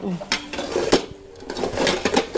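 Unbreakable plates and glasses are handled in a home setting, giving light clinks and clatters scattered across the moment as people talk nearby.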